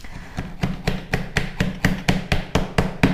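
A hammer taps a wooden canvas frame spacer, about a dozen sharp, evenly spaced knocks in a steady rhythm, close and clear with no talking.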